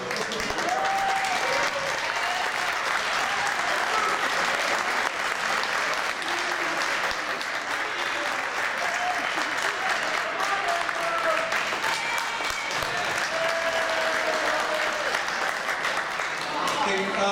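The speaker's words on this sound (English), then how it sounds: "we can give you a round of applause for the excellent match today" Crowd applause rises for senior athletes at a high school senior presentation after a match, continuous clapping held at an even level, with voices and scattered cheers mixed in under it.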